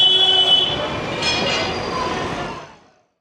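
A train runs on rails in Mumbai with a loud, steady rumble and clatter from close by, then fades away over about three seconds into silence.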